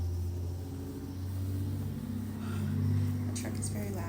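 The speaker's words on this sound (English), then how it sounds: "the truck is very loud" A heavy truck rumbles past outside, a low engine drone that swells and fades over a few seconds, heard from indoors beneath a person talking.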